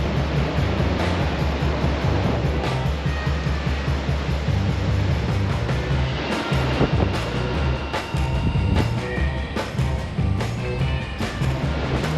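Ocean waves surging into a hole in a rock arch on a rugged coast, a loud continuous roar of churning water with rumbling low surges and repeated crashing swells throughout.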